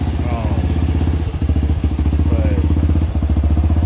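A 250cc Apollo DB 36 Deluxe motorcycle engine runs steadily close by, a loud, fast, even pulsing throb that never lets up, while a person speaks briefly over it.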